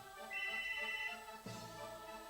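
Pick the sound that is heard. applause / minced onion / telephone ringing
telephone ringing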